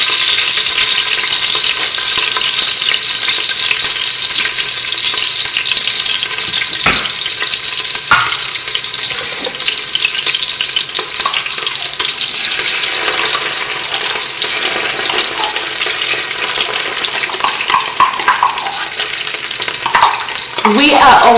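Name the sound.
tomato paste being added and stirred in frying okra stew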